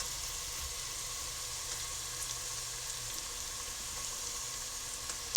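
Onions, garlic, ginger and thyme sweat quietly in olive oil, a soft, even sizzle running steadily throughout with a small clink near the end.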